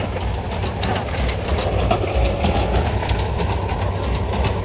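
A train running along a railway line beside an open-air gathering, heard as a steady rumble with a faint rhythmic clatter of wheels, moderately close and continuous, with a few bird calls mixed in.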